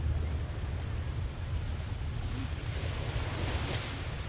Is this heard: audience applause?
no